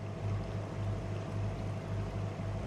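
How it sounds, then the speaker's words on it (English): Yacht engines running at full throttle, a steady low droning hum with a constant tonal throb and water rush, continuous and close throughout. "It's giving the engines a little bit of time on full throttle, so we're doing 9 knots."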